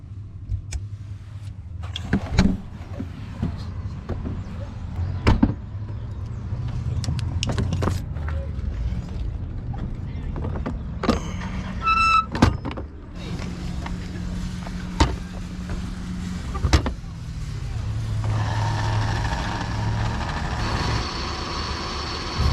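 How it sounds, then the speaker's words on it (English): Electric jacks on a truck camper lowering toward the ground on a snowy Wyoming mountain pass, a steady motor whine and hum that runs in stretches with clunks and knocks between, fairly close, with occasional speech. "All 4 jacks are down now, kind of equally touching the ground."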